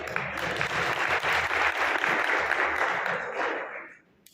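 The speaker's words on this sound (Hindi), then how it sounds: "अब भाई साहब ताली ही बजती है, इसलिए बजाओ ढंग से।" Audience at a Hindi poetry recital breaks into a dense burst of applause, many hands clapping fairly close, sustained for several seconds before cutting off sharply.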